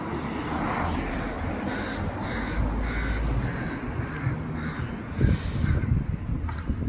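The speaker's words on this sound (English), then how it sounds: "And you can hear birds in these trees." Crows caw repeatedly from a distance over a steady outdoor rumble, with other birds faintly calling in the background.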